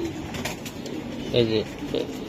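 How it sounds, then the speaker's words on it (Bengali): A Giribaz pigeon gives two short, soft coos close by, over low background noise. "ভাই এটা কি কবুতর দিলেন?"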